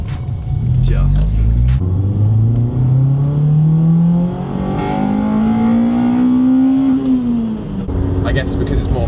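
A Honda Civic Type R EP3 with a full Spoon exhaust accelerates hard, the engine note climbing steadily through the revs in one long pull, loud and close inside the car, with brief talk over it.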